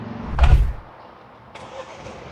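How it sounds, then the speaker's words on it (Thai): Mercedes-Benz A200 AMG push-button start: a short loud surge as the engine catches, then it quickly drops to a quiet, steady idle, with a faint click a moment later and no talking. "เหยียบเบรกแล้วก็พุชสตาร์ทได้เลยนะคะ สตาร์ทเครื่องเรียบร้อยแล้วนะ"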